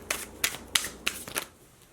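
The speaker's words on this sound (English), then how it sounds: "let me just shuffle" A deck of oracle cards being shuffled by hand, with about five quick, crisp riffling bursts in an even rhythm, close up and clear with no talking.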